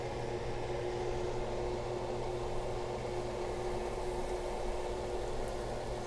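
Catfish chunks sizzle in hot olive oil, a steady, dense frying hiss that holds evenly throughout with a low hum underneath and no talking.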